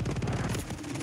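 Rapid automatic gunfire from the online shooter game Warzone, a dense burst of shots fired in quick succession, loud and close with no talk over it.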